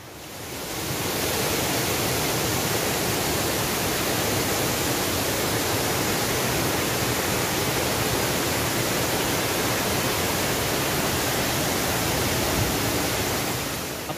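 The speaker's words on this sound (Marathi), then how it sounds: "आपण सर्वप्रथम पाहणार आहोत रानपाट वॉटरफॉल" The Ranpat waterfall at Veer village in Konkan gives a continuous, loud, broadband roar of falling water, steady and unbroken throughout, with no voices.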